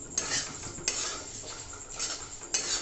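Puffed rice being stirred in a hot kadai with the gas turned off, giving a steady dry scraping and rustling with a few sharp clinks of a spoon against the metal.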